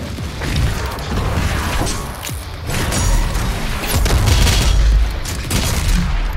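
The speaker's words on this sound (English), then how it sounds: "that shotgun hits him really bad" Heavy shotgun blasts boom in Doom Eternal gameplay, repeated loud, punchy shots with crashing impacts and mechanical clatter layered over a dense, continuous game soundtrack.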